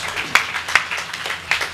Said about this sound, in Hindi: तो तालियां बजाइए।